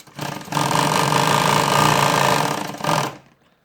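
A home sewing machine runs in one steady, loud burst of fast stitching through fabric for about two and a half seconds, then a short final run before stopping into silence.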